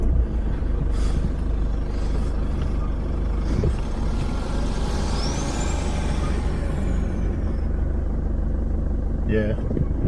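A car engine revs hard in low range while climbing through a sand bowl, a loud continuous rumble running the whole time, with brief higher mechanical whines near the end.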